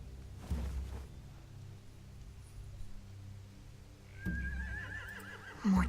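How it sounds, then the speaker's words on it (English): A horse whinnies loudly in a stable with hay in the video game The Walking Dead: The Final Season, a long rising neigh near the end following low rumbling ambience and a few thuds. "Find anything over here? They have horses."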